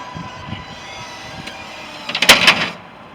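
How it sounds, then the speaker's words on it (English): On a 2007 Toyota Braun wheelchair-accessible van, the door runs with a steady mechanical hum and then a burst of clicks and clunks as the automatic ramp starts to deploy, heard close. "Once the door opens, the ramp comes out. Here comes the automatic ramp."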